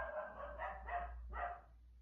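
A dog barks a few times somewhere away from the listener, faint yips spaced across a couple of seconds over a low steady hum indoors.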